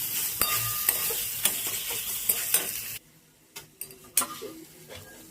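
Kochur sak being stirred with sugar in a pan, with a faint sizzle under repeated scraping and tapping of a spoon against the metal, close by, then quieter clinks toward the end.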